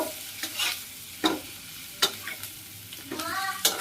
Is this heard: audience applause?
no